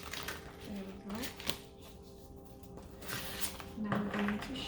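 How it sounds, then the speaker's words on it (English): A deck of cards is shuffled by hand in brisk riffling bursts, close and fairly soft, with a few light taps between passes, over quiet background voice. "Now I'm going to shuffle it like this."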